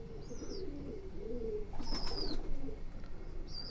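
Kasmi and Katakash pigeons coo in low, throaty murmurs close by, with a few higher bird chirps and whistles breaking in over the cooing.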